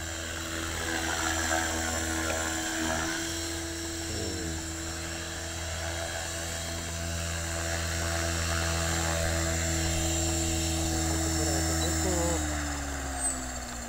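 A T-REX 500E Pro model helicopter whines steadily nearby on its first flight, its rotor pitch shifting up and down as it hovers, with a faint voice now and then.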